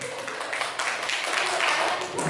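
A group claps together as a reward for a correct answer during a classroom quiz session, a dense, steady patter of applause lasting a couple of seconds at moderate loudness.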